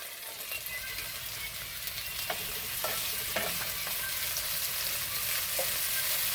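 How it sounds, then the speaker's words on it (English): Fresh tomato sizzles in a hot pan with stewed salt fish, a steady frying hiss broken by a few sharp crackles and scraping stirs, with no voices. "we're going to add the tomato. The fresh tomato in here as well."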